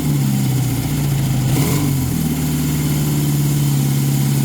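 A Honda CB750 motorcycle engine idles loud and steady up close, then swells briefly in a quick rev before settling back into its even idle.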